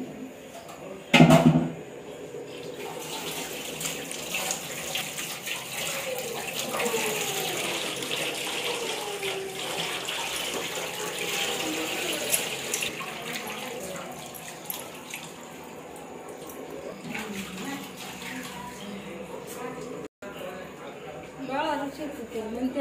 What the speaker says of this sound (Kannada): ಇಷ್ಟೇ ನೀರು ಹಾಕ್ಬಿಟ್ರೆ